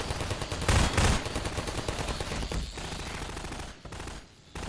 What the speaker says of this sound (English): if you let them get too close to the turrets, they will target them down